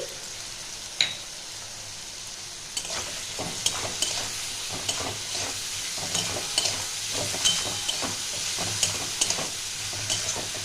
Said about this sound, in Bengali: এটা 10 সেকেন্ডের মতন একটু নাড়াচাড়া করব।